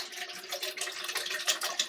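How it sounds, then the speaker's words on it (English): Chicken broth pours steadily into an Aroma rice cooker holding rice, a soft, close, continuous splashing trickle with no voices. "So I'm going to put some chicken broth."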